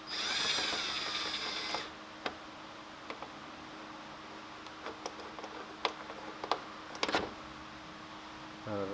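A power tool whirs briefly up close while taking out a header bolt on a 2016 Volkswagen Jetta, followed by scattered light clicks and taps of parts being handled.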